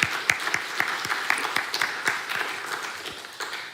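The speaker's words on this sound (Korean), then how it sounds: "격려와 사랑의 박수를 한번 보내주셨으면 좋겠습니다." Church congregation applauding young people at a Thanksgiving revival service, a steady wash of many hands clapping with sharper individual claps standing out, sustained and fairly loud throughout.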